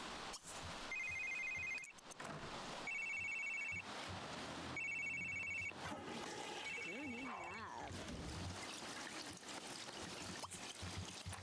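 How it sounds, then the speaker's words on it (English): A landline-style phone rings repeatedly in The Sims 3, with four bursts of bright electronic trilling separated by short gaps, heard over game background sounds and a faint trickle of water. "And of course, we miss another phone call."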